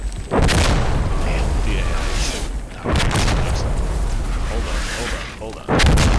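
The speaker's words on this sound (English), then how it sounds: "Who called explosive artillery on us?" Artillery barrage explosions in the tactical shooter game Insurgency: Sandstorm, loud deep booms arriving one after another with rumbling tails, while players talk briefly.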